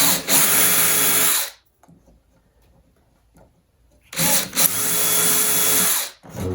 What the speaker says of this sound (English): I'm re-drilling these just to make sure they're clear.